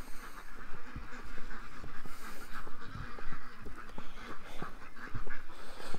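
A flock of ducks at a feeding and rescue site quacks steadily and loudly, many overlapping calls and honks, close by with little talk.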